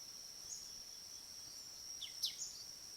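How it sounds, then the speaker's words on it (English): Faint birdsong and a steady high insect drone in old agroforest plots, a few soft chirps rising briefly above the constant buzzing hum, distant and quiet throughout. "You have a few birds singing now and then, some insects, squirrels in the background"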